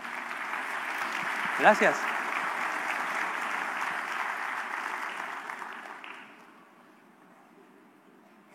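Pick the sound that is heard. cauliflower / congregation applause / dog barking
congregation applause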